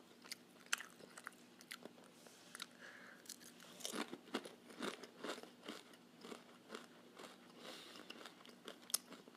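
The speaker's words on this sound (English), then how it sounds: "Do you guys hear like the crunching noises?" Close, crisp crunching and biting of deep-fried Mexican chips topped with cinnamon and sugar, with repeated sharp bites and chewing crackles spread through the whole stretch, no talking.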